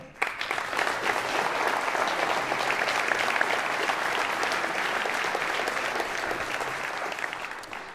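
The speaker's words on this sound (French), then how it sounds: "Je vous demande d'applaudir Brigitte Patin" A crowd at a final campaign meeting claps for Brigitte Patin, a sustained, even wash of applause that rises quickly after a brief quiet start and holds steady for about eight seconds.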